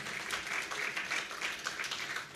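Audience applause at a theatre award ceremony, a steady wash of many hands clapping at moderate level, sustained without pause and with no voices over it.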